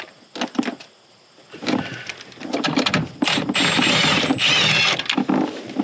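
A small ratchet backs out 7 mm screws from the HVAC controller of a 2004 Chevrolet Silverado, with sharp mechanical clicks at first, then a longer stretch of busy, close clicking and rattling.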